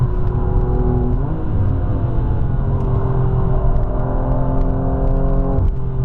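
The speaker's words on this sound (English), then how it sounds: "Now we accelerate again, heading towards Metzgersfeld." A Ring Taxi on the Nürburgring accelerates hard through its gears, the loud engine drone rising in pitch with brief dips at each shift, heard close from inside the cabin.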